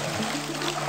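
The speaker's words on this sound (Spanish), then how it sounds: "Escuchar solo el agua, cerrar los ojos y solo escuchar." Steady broadband rush of water flowing and trickling at the Salto Guaba de Mico waterfall in Pedro Carbo, Ecuador, a continuous wash of moderate loudness with no voices over it.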